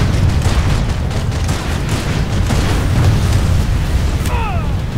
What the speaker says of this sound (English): Shooting at tanks with guns.